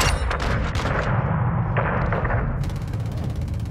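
Gunshots fired at buildings in a video game: a close, loud string of sharp cracks in quick uneven bursts, pausing briefly in the middle before resuming rapid fire.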